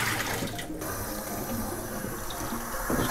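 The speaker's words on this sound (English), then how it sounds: "I'll just dump out the water." Water pours out of a container steadily in a continuous splashing gush, close and fairly loud, with a brief break midway, from cyanotype toning with tannic acid and sodium carbonate.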